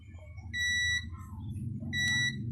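A multimeter's continuity tester beeps across the shorted legs of a component during a repair: two sharp, high electronic tones, each about half a second long, over a low background hum.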